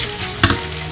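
Cut okra fries in oil under a constant close sizzle, with a single sharp spatula scrape or knock against the pan near the middle.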